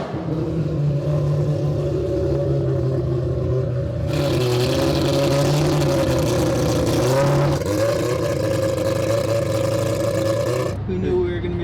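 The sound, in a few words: four-rotor rotary engine car driving out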